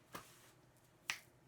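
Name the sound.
finger snapping imitating a metronome beat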